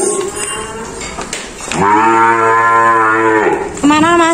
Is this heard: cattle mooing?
yes